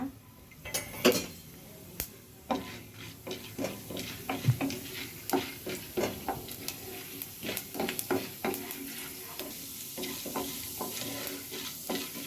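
Chana dal and urad dal tossed into hot oil in a pan for sabbakki chitranna, with a steady low sizzle under repeated close clinks and scrapes of a metal spoon stirring against the pan.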